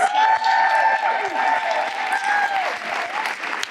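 A crowd applauds at the Greensboro Day School 2026 graduation ceremony in honor of Sunny Willis, with sustained even clapping under a tonal hum, and a few voices faintly heard over it.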